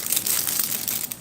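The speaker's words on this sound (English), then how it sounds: "in just a clear plastic bag instead of the white lunch sack folded style Mylar type bag" A clear plastic bag holding an MRE accessory pack crinkles and rustles in quick, close bursts, bright and crisp, with no talking.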